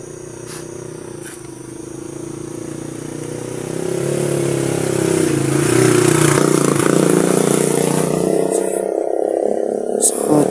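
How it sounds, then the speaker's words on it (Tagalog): A motorcycle passes by outside a house, its engine drone rising from moderate to loud over several seconds and holding near before fading, with a few sharp background clicks and chirps. "So may dumaan na motor, no?"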